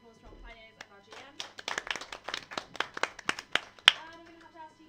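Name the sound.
audience applause for players and GM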